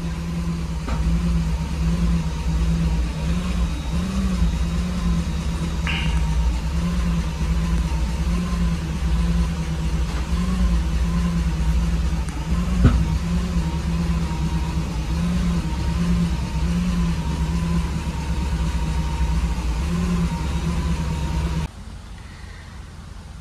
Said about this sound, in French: J'arrive à faire reculer la voiture quand je me mets sur la bonne position